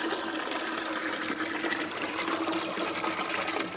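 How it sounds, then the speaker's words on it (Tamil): A pot of water pours steadily into a homemade tile fish tank, a continuous splashing gush at even loudness throughout, with no talk. "ஃபஸ்ட்டு வந்து ஒரு குடம் ஊற்றிக்கிறேன்."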